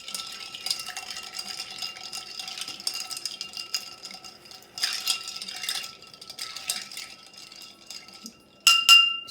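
A Gold Rush cocktail stirred freehand with a bar spoon, giving steady light clinking and rattling of ice against glass, with a sharper burst of clatter near the end.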